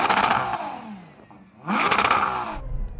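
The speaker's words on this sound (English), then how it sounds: "I can't believe how quickly this engine revs up for an SUV's engine." A Ferrari Purosangue engine revs hard in two sharp bursts separated by a brief dip, loud and close, with the pitch sweeping up quickly on the second rise.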